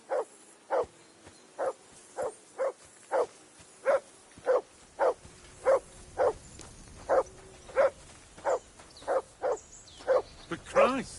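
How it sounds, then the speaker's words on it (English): A dog barks over and over in a steady, regular rhythm, about sixteen sharp barks spread evenly across a long stretch at moderate distance, with faint low background noise beneath. "I assume you can hear that damn dog of yours barking."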